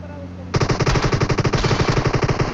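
Rapid automatic gunfire in the mobile battle-royale game PUBG Mobile, a loud, close burst of evenly spaced shots running for about two seconds after a quiet start.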